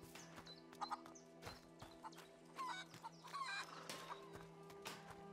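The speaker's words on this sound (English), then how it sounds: "Let's go scare the chicken." Chicken clucking in the video game A Plague Tale, a run of short irregular clucks at moderate distance over a quiet ambient hum, with no talking.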